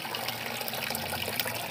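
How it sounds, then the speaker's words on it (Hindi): Water circulating through a hydroponic growing system, pushed by a pump motor: a steady, close splashing trickle with a constant watery hiss and no pauses. "ये देखिए कैसे पानी का सर्कुलेशन जो चल रहा है एक मोटर डाली हुई है पंप डाला हुआ है"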